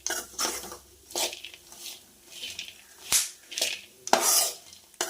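Dry fruits are stirred and fried in a pan for laddu, giving repeated scraping and clinking strokes of a utensil against the pan in an uneven rhythm, close and fairly loud, with no talk.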